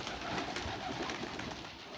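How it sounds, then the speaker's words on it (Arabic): Pigeons or doves cooing outdoors, with steady soft calls and a faint fluttering texture that continues throughout at a moderate distance, no voices present. "شوف الطيور شلون تشرد."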